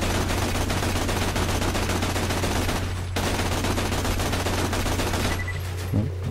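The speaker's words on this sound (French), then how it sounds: "nous sommes toujours en train de tirer sur la tourelle" Continuous rapid gunfire hammers at a turret in the shooter game Borderlands: The Pre-Sequel. The shots are loud and dense, with a short break partway through and a few scattered shots near the end.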